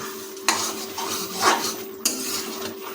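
A spoon stirs chicken skin and pea ghugni with garam masala in a wok, making loud repeated scraping strokes against the metal over a faint sizzle.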